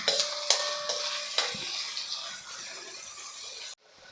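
One large, finely chopped onion sizzles in hot oil in a pan while cooking sukka chicken. A steady close hiss is broken by a few sharp spoon clinks, and it cuts off abruptly near the end.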